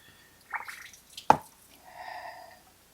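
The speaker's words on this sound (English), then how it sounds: "that's basically gasoline pouring out of that thing" Gasoline runs out of the oil drain hose of a Toro mower with a Kawasaki engine. It comes as a few close, quiet drips and squishy splats, one sharp plop, then a brief soft trickle.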